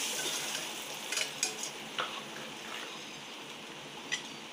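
Tamarind water is poured into a pan of garlic frying in oil for a stingray fish curry. A steady sizzle hisses throughout, with a few soft clinks and splashes from the pan and no talk.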